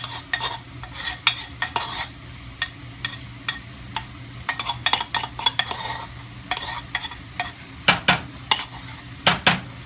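Garlic cloves, eight of them, sizzle in a pan while a spoon scrapes and stirs, giving sharp metallic clicks in an uneven rhythm over a steady frying hiss, close and clear with no talking.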